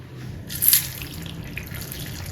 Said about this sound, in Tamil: தண்ணி ஊற்றி வச்சிடலாங்க.